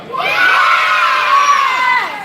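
Children in a story-time audience with Santa shout loudly in unison, one sustained, steady group yell that holds for about two seconds before tapering off.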